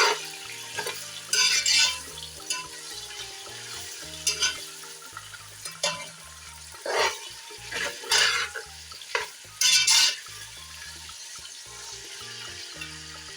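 Chicken fries in a pan with onions, giving a steady close sizzle broken by repeated bursts of scraping and stirring.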